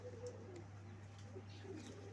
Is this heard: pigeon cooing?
yes